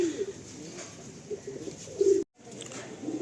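Kalanka pigeons coo repeatedly in low, rolling bursts close by, with a brief silent gap before the cooing resumes.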